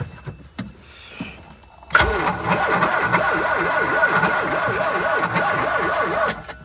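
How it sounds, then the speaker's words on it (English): A Fiat 238 engine cranks without catching: a sudden starter whir sets in and holds a steady, wavering rhythm for several seconds before cutting off, after some faint knocks and handling noises. "The Fiat 238, we didn't manage to get it started."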